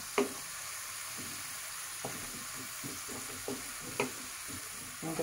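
Onions and tomatoes frying together in a pan as the base for a mustard bata fish curry, giving a soft continuous sizzle broken by scattered scrapes and taps of steel and wooden ladles.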